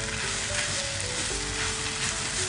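Pork belly and garlic fried rice sizzling steadily in a hot pan while being stir-fried for a bento, a constant close frying hiss with no voices.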